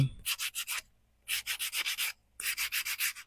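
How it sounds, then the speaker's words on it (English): Hand sanding of wooden spindles before painting in quick rhythmic bursts, short back-and-forth scrapes in three runs separated by brief pauses, close and crisp, no voices. "we're going to have to give them first a little sanding"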